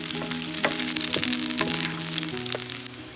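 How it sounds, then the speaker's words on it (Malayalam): Garlic, ginger and a slit green chili sautéing in hot oil for buttermilk curry, loud close crackling sizzle with a few stirring clinks and scrapes, steady throughout without voices. "ഇനി എല്ലാം കൂടെ നമുക്ക് എണ്ണയിലൊന്ന് വഴറ്റിയെടുക്കാം"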